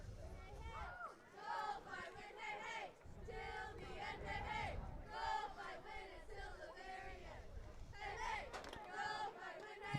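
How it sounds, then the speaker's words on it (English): High school cheerleaders lead rhythmic shouted chants to rally the crowd at a South Beloit vs Alden-Hebron/OLSHA football playoff game. Their loud call-and-response cheers rise and fall in bursts over a busy crowd murmur. "Alden-Hebron cheerleaders trying to pump up the crowd."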